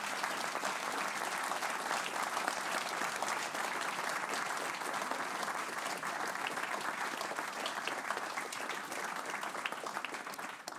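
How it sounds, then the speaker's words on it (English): Sustained audience applause at a book launch talk fills the whole stretch, dense and even clapping from a large crowd that holds steady before tapering at the very end. "Give a warm applause for Hannah Ritchie, everybody."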